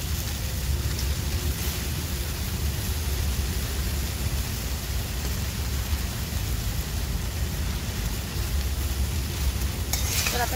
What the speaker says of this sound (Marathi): तर आता मी मिक्स करून घेते भाजी।